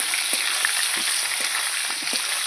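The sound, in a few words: potatoes stirred and frying in oil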